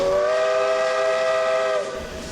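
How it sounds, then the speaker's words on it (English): Steam whistle of a working tank engine at the Niles Canyon Railway Steamfest in Fremont, California, a loud, sustained, steady tone lasting nearly two seconds before cutting off, heard alone without voices. "the Niles Canyon Railway in Fremont, California hosted Steamfest 2, featuring 4 working tank engines"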